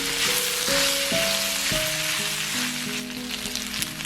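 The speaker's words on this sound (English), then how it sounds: "Give it a brief stir to incorporate." Sliced red sweet pepper stirred into a sizzling beef and asparagus pasta stir-fry, with a steady loud hiss and several clinking scrapes of the utensil against the pan, no voices.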